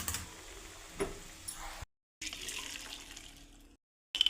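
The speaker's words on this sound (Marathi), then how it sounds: "थोडा एका थंड पाण्याने आपण त्याला धुवून घेऊ" Running tap water splashes over cooked pasta in a colander for a few seconds, cutting out briefly twice, close and moderately loud with no speech.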